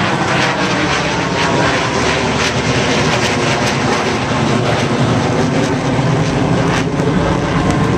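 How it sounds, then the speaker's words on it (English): A B-2 bomber flies over the Indianapolis 500 racetrack, a loud, continuous broadband jet roar that stays dense and steady throughout with crowd wash underneath. "they always have a plane flyover. In this case it was a B-2 bomber, and I got video of that."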